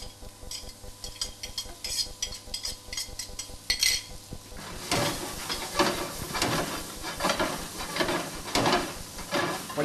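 Seasoning, onion and vegetarian chili pepper go into a hot pan: first quick clinks and scrapes of a utensil, then a loud, continuous sizzle with repeated stirring strokes.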